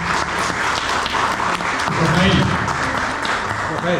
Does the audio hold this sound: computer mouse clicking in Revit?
no